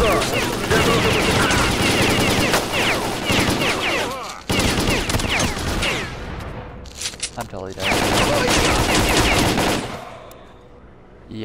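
Dense bursts of automatic gunfire fill an Xbox shooter set in Pripyat, running mods, with rapid continuous volleys, a brief break, then more firing that fades out near the end.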